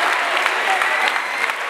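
A crowd applauds at a freestyle rap battle exhibition in Mar del Plata, a loud, dense burst of clapping with some cheering voices mixed in, steady over the short span.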